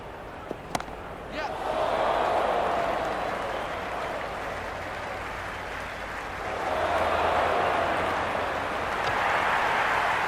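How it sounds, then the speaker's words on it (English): Crowd at a cricket ground in the video game Cricket 26, with applause and cheering swelling in two broad waves across the clip and a sharp knock near the start. "the crowd have joined the party. It's pretty noisy at the ground."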